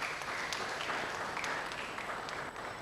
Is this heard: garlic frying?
no